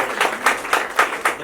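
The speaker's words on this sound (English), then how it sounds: "We please give a round of applause for" A small audience at an art gallery event on youth engagement in botany and zoology gives a short round of applause, with claps landing in a steady, evenly spaced rhythm at moderate loudness.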